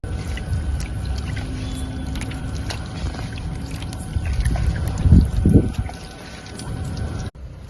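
Water is poured lightly at an outdoor Tamil camping cook-out, a low rushing trickle over steady outdoor background noise, swelling briefly in the middle before the clip cuts off.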